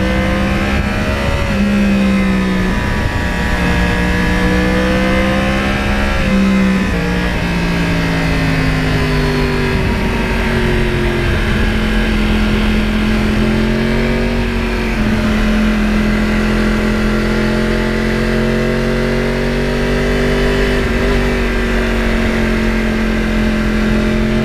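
A Yamaha R1 crossplane motorcycle engine revs steadily for the whole stretch, its loud, rough inline-four note rising and falling through repeated throttle blips with no one speaking.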